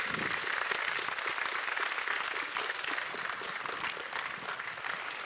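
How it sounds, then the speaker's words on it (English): Steady applause from a large crowd at a university graduation ceremony, many hands clapping continuously at moderate volume for several seconds, with no voices over it. "Let's give them a round of applause."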